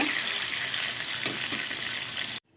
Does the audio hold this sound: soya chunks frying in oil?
yes